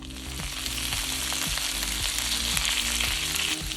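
Cabbage stir-frying in hot oil in a pan, with a loud, continuous sizzle and regular scraping strokes of a utensil roughly every half second.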